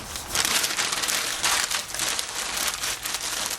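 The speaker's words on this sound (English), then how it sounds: "I'm going to crumple it up" Newspaper being crumpled by hand to start a charcoal chimney, a close, loud series of crackling, crinkling bursts in uneven bunches with no talk.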